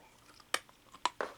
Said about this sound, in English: And here's our gum. It's starting to crunch a little bit.